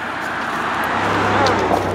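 A car passes by on a road near a trail by a bridge at night, its steady engine and tire roar swelling briefly and close in a short stretch with no talk.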